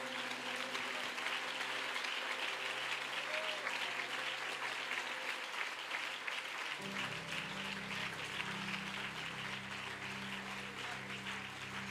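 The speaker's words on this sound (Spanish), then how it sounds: "Dele ese aplauso a Él" Sustained applause from a church congregation at a Sunday closing service, steady clapping throughout, joined partway by low sustained organ or keyboard tones.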